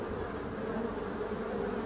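Black bees buzz steadily at a hive entrance fitted with a bar, a dense continuous hum close by with no voices.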